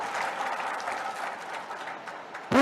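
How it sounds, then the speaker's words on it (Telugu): An audience at a public gathering applauds in a dense, continuous wash of clapping that carries on evenly before a voice cuts in at the end. "నచ్చితే గట్టే చప్పట్లు కొట్టుందన్నా"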